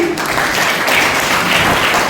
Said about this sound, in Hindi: सभी जोरदार तालियां बजाएंगे